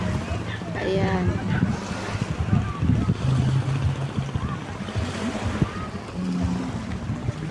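Waves wash onto a beach shoreline in a steady, continuous surf, mixed with wind buffeting the microphone while people talk nearby.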